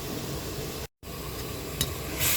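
Chili, lemongrass and shallot stir-fried in a pan give a steady, close sizzle with scraping stirs, broken by a short silent gap and ending with a louder hiss.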